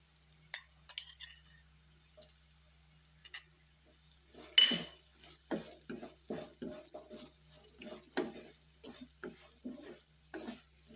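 Small bitter gourds frying in a pan with crushed unpeeled garlic and black chili powder, a soft, faint sizzle broken by scattered stirring scrapes and clinks of the spatula.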